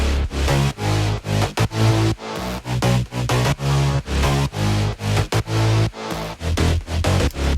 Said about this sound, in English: Altogether, the basses sound like this.